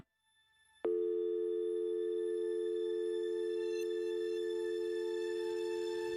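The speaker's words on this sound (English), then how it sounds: "the phone went dead" A telephone line gone dead after a call, leaving a steady, loud electronic tone that starts abruptly after a short silence and holds unbroken to the end.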